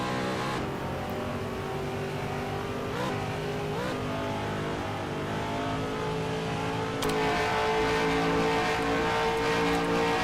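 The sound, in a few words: race car engines from TMR sound pack in racing video game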